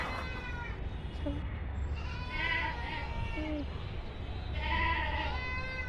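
A goat on a rooftop bleats in two drawn-out, wavering calls, fairly close, over a low steady background hum.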